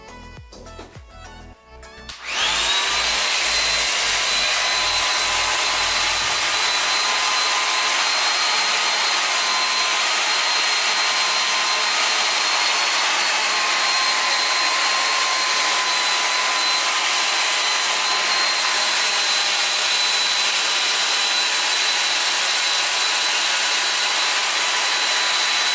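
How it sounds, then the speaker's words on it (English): A hair dryer set to cool blows over freshly sprayed lace frontal wig hair, starting after a couple of seconds of quiet and then holding a loud, steady, unbroken whoosh throughout, with no voices. "Take my hair dryer and I'm going to put it on cool settings."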